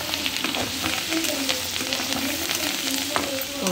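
Beetroot and tamarind leaves fry in a pan with a soft, steady sizzle close by, along with light stirring scrapes throughout.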